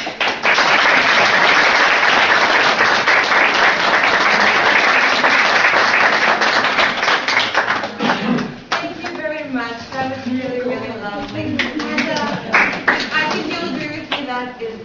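Audience applause at an artist collective talk following a speech, a dense steady round of clapping that gradually thins into scattered claps while voices and cheering rise beneath it.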